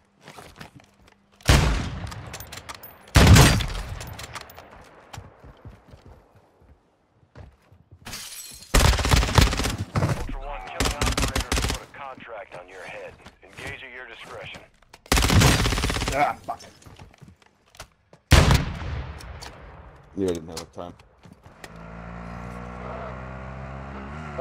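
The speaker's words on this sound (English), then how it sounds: "People shooting over here." Call of Duty DMZ gunfire: several loud bursts of automatic rifle fire separated by short pauses, with softer in-game movement and ambient noise in between.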